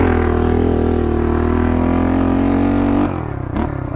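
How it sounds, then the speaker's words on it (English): A 1975 Honda Redline Powroll 412cc motorcycle taking off hard in third gear, its engine giving a loud, close, steady roar that holds for about three seconds before dropping away as the throttle eases. "Let's do a third gear hole shot."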